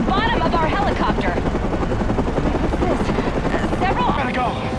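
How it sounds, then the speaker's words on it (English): In the video game Batman: Arkham Origins, a helicopter hovers close by with loud, rapid rotor thumping throughout, while a voice talks over the din. "And now it appears the Batman has been blown from the building by the blast and is somehow hanging from the bottom of our helicopter"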